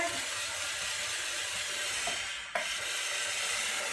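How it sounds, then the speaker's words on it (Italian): A steam cleaner hisses continuously while it cleans inside a washing machine, a loud, even jet with a brief dip and restart near the end and no voices. "do una svapata qua dentro, anche perché già non si vede più niente con tutto questo vapore"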